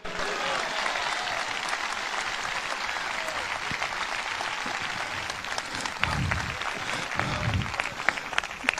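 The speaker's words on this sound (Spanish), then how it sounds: "Dale un aplauso a Cristo" A church congregation applauds during a Spanish-language sermon, a sustained wash of clapping with a few cheers and voices mixed in and a louder swell near the end.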